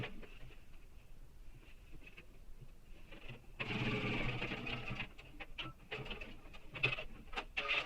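A sewing machine stitches a backpack front panel in short bursts, a denser run of stitching in the middle, close and fairly quiet, with faint handling noises between passes.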